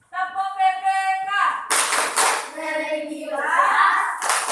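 Children in a classroom chant the rhythmic Tepuk PPK clapping routine together, sung voices mixed with brisk hand claps, close and loud throughout.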